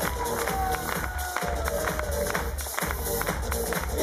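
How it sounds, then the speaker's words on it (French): An audience at a Club Med Beldi evening show claps and cheers loudly for a live singer, a dense roar of hands with whoops and crowd noise running the full length. "J'aimerais qu'on applaudisse très fort."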